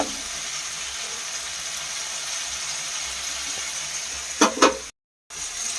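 Onion and tomato paste sizzles quietly in a pan while being stirred, a steady soft frying hiss with a couple of brief scraping stirs near the end before a short gap.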